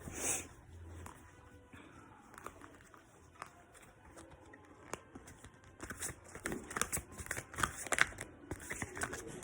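Quiet riffling and soft slapping of tarot cards being shuffled nearby, irregular bursts of papery flicks growing busier toward the end.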